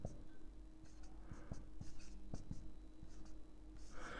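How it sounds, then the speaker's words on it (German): A pen writing out a math equation on paper, giving faint, close scratching strokes in short irregular bursts with small taps, quiet and alone. "Und den Teil schreibe ich jetzt einfach ab"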